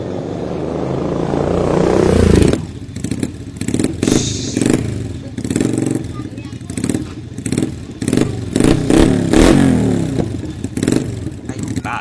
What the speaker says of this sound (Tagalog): Kasi maingay lang po yung motor.